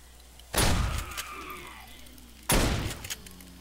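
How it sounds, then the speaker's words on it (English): Two heavy shotgun blasts aimed at zombies in 7 Days to Die, spaced about two seconds apart, each a loud booming crack that fades into a rumbling tail with faint clatter in between. "Let's just shotgun these guys."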